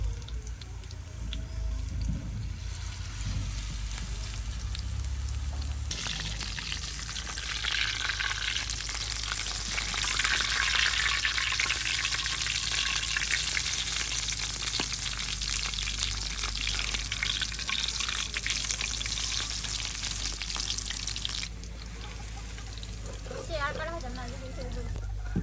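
Bottle gourd leaf and radish leaf fritters fry in hot oil with a continuous sizzle and hiss that grows louder in the middle stretch, and a steady low hum runs beneath it.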